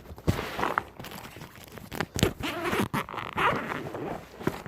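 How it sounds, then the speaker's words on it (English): A zipper closes on a fishing tackle bag that holds pond fishing gear. It sounds as several quick, close, scratchy pulls with brief pauses between them. "zip this back up"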